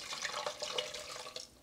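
Beef broth pours from a spouted container into a cooking pot in one soft, steady trickling splash lasting under two seconds, heard alone and fairly faint.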